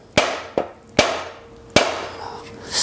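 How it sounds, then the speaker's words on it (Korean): A hammer strikes metal to knock a rusted bearing out of a bicycle: four sharp ringing blows at uneven intervals, each decaying quickly, with nobody speaking. "어쩔 수 없이 망치로 쳐서 이제 빼야 되겠어요"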